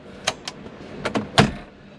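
Glove box door of a 1978 Cadillac Eldorado being worked and shut, producing several short clicks and knocks, ending in a firmer latching thud, close up and with no talking.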